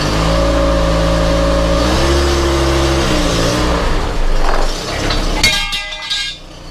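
A Volvo 480 with a 2.0 litre engine runs loudly while reversing on axle stands, its steady mid-pitched drone rising and shifting in pitch. A few clinks and knocks come near the end as the engine note drops away.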